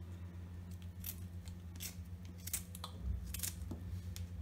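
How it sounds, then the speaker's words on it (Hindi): A knife cuts a mango into small pieces for pickle, with several sharp, crisp slicing clicks spaced irregularly over a quiet kitchen background. "आप आम को लें और चाकू से इस तरह से काटकर इस प्रकार छोटे छोटे पीस बनाकर फिर अचार बनाएं।"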